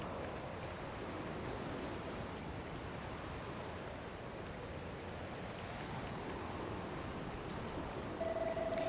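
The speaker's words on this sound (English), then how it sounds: "Look at that, the water's flowing right over the cliff and all the way down to the bottom." Water pours steadily over a cliff into a waterfall in Dragon Quest Builders 2, a constant broadband rushing wash that stays even throughout and plays alone, with no talk.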